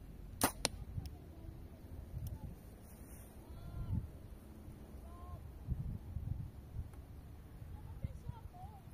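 A bow shoots a hunting arrow for wild boar into a target 15 metres away. A single sharp crack comes early, followed by quieter outdoor noise and faint voices.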